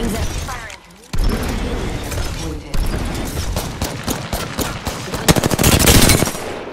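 Automatic gunfire in the Apex Legends video game rattles out in loud, rapid bursts, with sharp impacts and shield cracks. The bursts grow denser toward the end, and game voice lines sit partly under them.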